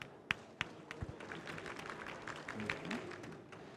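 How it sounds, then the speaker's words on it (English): Faint applause from an audience at a startup demo day, with a few distinct early claps that build into soft, scattered clapping in a large room. "So please, let's have a nice round of applause for them."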